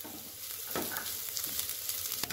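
Onion, garlic and green chili fry in a pan with a close, steady crackling sizzle, dense popping and spitting throughout a brief stretch, with no voices.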